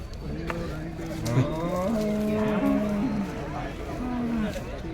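Cattle at a busy market for heifers and milking cows in Seenapuram moo in several long, loud calls up close, while people chatter around them.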